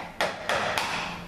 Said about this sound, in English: Let me get a hammer here and see if I can knock this thing out.